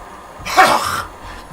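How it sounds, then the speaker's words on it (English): A person with a lingering cough lets out a single sharp, close cough, a brief harsh burst between quiet moments. "I just can't shake this cough."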